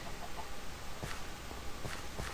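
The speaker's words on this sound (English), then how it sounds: "when there's no more giant chickens roaming around trying to kill me." A giant chicken in the Minecraft video game clucks in short, faint bursts spaced through the clip, set low against a steady background hiss with no talking.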